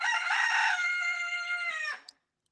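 A single rooster lets out one loud, close crow that lasts about two seconds and then cuts off sharply into silence, with no talking around it.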